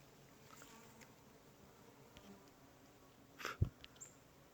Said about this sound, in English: There are a lot of bees in there.